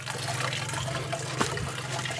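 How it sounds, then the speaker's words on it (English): Water runs steadily in an aquaponics fish tank and sump system, a continuous close rushing and trickling with no pauses and no talk. "show you this system now running. We got the sump down there running with that."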